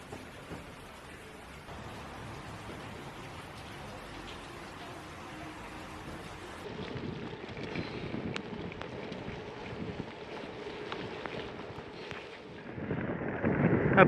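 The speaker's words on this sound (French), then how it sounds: "ici il pleut comme vache qui pisse" Heavy rain falling outdoors at L'Isle-sur-Tarn during a big storm, a continuous rushing hiss with gusty wind buffeting the microphone, building louder toward the end.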